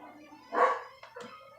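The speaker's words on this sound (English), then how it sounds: "I know you're barking at stuff out of it." Dog barking indoors near an exit door, one loud close bark followed by a couple of shorter yips, with a faint voice in the background.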